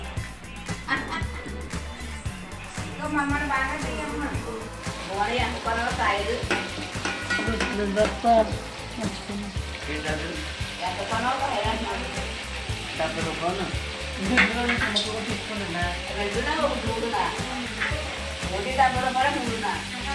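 Fish curry in a pan with green chillies being added sizzles and frys steadily with stirring scrapes throughout, while people talk over the cooking.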